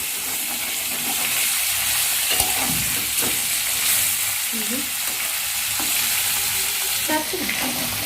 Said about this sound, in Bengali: একটু ভাজা ভাজা হয়ে যাক আমি খুব বেশি কিন্তু ভাজবো না জাস্ট একটু লাল হবে